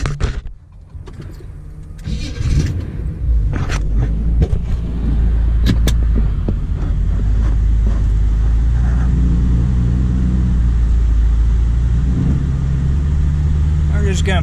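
A supercharged Chevy-powered Jaguar pulls off a truck scale, its engine running loud and steady close by over several seconds, with a few sharp knocks and clunks early on and people speaking over it.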